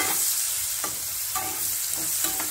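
Finely chopped onion sautéing in hot oil with asafoetida and turmeric, a continuous loud sizzle broken by soft scraping strokes as it is stirred, no talking.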